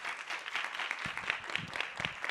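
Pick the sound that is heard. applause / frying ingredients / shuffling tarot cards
applause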